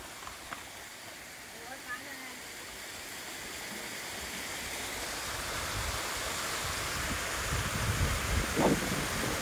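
A hidden waterfall near Virar, outside Mumbai, gives a broad, steady rush of falling water that grows louder and closer, with people talking over it.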